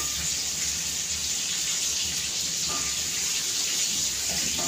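Water poured into a pan of Marathi-style stuffed brinjals (bharli vangi) makes a steady, even hiss of pouring and splashing that lasts the whole stretch, with no talking.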